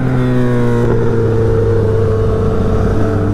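A superbike engine holds a loud, close, steady harmonic drone as the rider downshifts through the gears, with a brief shift in pitch near the start.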